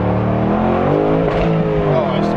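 A BMW 8 Series engine drones and revs loudly up close on a straightaway, pitch shifting as it climbs through the gears.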